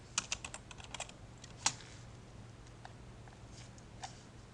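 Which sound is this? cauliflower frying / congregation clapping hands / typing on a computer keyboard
typing on a computer keyboard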